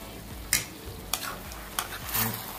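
Chettinad chicken curry being stirred in a pan after chili powder and a pinch of turmeric go in, with soft sizzling underneath and several distinct scraping strokes of a spoon against the pan, close and clear.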